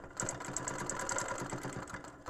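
A sewing machine stitches a quilt guided by a Hexie Duet quilting ruler, a steady mechanical whir with a rapid repeating tick running throughout the short stretch at moderate level.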